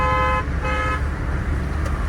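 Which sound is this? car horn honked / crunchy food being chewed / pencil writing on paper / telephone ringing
car horn honked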